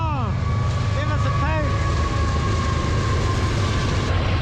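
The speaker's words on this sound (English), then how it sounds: "Here comes the train, baby." A train rolls past a salvage yard full of abandoned cars, giving a loud, close rumble with curved squealing tones early on, then a steady roar that carries through to the end.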